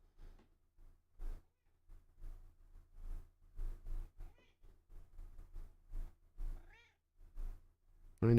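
A cat meows repeatedly nearby, in several separate calls spread through the stretch, over a quiet background during a live reaction to a Mariners baseball broadcast.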